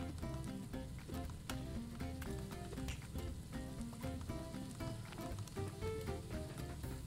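Burgers sizzle on a grill in the cooking game Overcooked, a dense, continuous frying crackle held at steady volume throughout with no voices, layered with faint clattering game effects.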